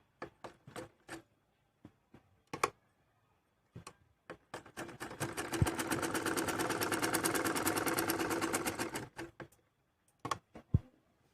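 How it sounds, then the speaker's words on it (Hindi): A sewing machine stitches fabric for palazzo pants, starting with a few short bursts and clicks, then running in a steady, close whir for several seconds before stopping into more brief clicks. "इसी तरीके से इस पे सिलाई लगानी है"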